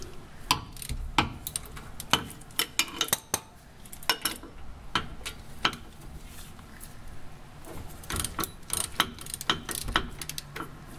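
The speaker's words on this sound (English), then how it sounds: "If you have a ratcheting wrench, it's real easy to remove these." A ratcheting wrench clicks in quick, light metallic bursts while loosening front brake caliper carrier bolts on a Volvo 850, close and fairly quiet, with intermittent clanks of tools and parts between the runs.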